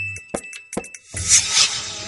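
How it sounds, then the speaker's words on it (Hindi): Temple bells ring on a village morning: a few short metallic dings in quick succession, then a brighter, fuller ringing wash with steady tones that carries on to the end. "घंटियां मंदिरों में सुबह का माहौल"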